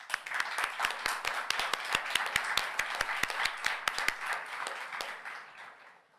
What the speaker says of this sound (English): I always like to be at conferences where they applaud in advance